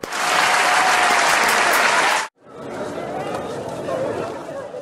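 A studio audience bursts into loud, dense applause that stops sharply, then resumes at a lower level mixed with chatter and crowd noise.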